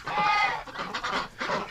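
Ducks and geese in a shed, a close cluster of quacking and honking calls in quick overlapping bursts, moderately loud.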